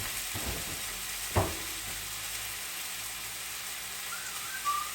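Hamburger meat fries in a pan on a gas stove, giving a steady soft sizzle with a couple of brief knocks or stirring clatters, close by and with no talk.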